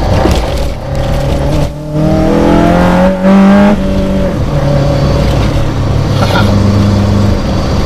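A Toyota AE86 Corolla's engine with individual throttle bodies and an HKS exhaust revs hard in loud rising and falling pulls, with a raspy exhaust note and induction roar close by.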